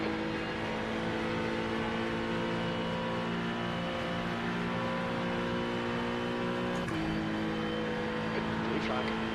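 Race car engine in the iRacing simulator at Watkins Glen, a faster-class car approaching and passing, steady droning engine tones throughout with a shift in pitch near the end.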